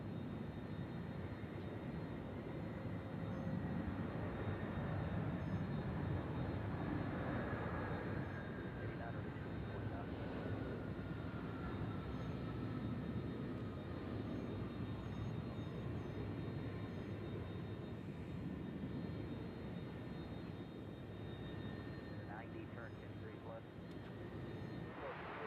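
A WestJet airliner passes at Nashville International Airport, its engines producing a steady, distant roar that swells and fades slowly, with people talking over it.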